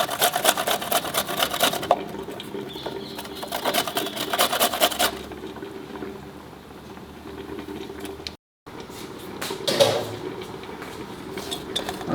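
Ginger being scraped in a kitchen for mackerel fish cutlets, close, with rapid rhythmic scratchy strokes in bursts, a pause and brief dropout before the strokes resume more softly.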